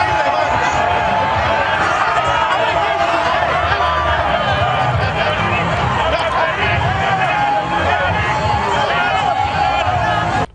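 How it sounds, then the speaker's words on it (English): A large, excited crowd roars as the president makes his entry at an outdoor venue, a dense, loud, continuous wall of cheering and shouting that holds steady for the full stretch. "The already excited crowd took the noise levels some decibels higher when the"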